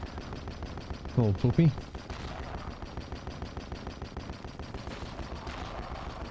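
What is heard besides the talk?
gunfire from the video game TENET, a Devil Daggers-like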